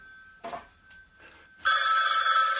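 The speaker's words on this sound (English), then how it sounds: "The phone's ringing." A telephone bell rings loudly and continuously after a couple of faint preceding sounds, a bright sustained metallic trill with no talk over it.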